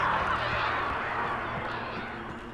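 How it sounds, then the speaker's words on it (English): Birds squawk harshly in the Alan Wake video game, steady honking calls over a dense, continuous ambient wash. "Those birds do not sound happy."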